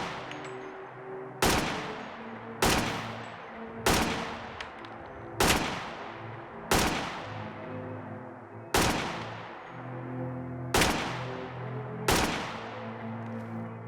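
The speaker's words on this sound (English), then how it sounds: "The AK-112 assault rifle was a military assault rifle of Soviet origin" A Soviet-origin AK-112 military assault rifle in Fallout 4 fires eight loud, separate shots at a fairly even pace, each a sharp crack followed by a lingering echoing tail.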